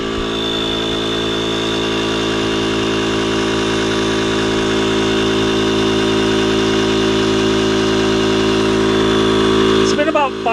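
A Seamax 20 PSI electric SUP pump inflating a paddleboard runs as a loud, steady motor drone with a constant pitch throughout, and a brief clicking shift comes near the end.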